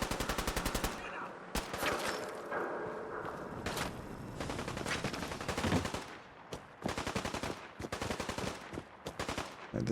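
Rapid automatic gunfire in Fallout 4 crackles in loud, dense bursts with short gaps between volleys, close and continuous.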